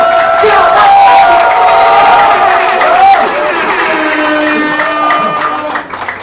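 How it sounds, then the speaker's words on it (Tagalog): A crowd at a rap song competition claps, cheers and shouts loudly. Whoops and voices rise over the clapping, and the noise eases slightly toward the end. "Aking pamilihingi ang malakas na palakpakan at sigawan ng bahay!"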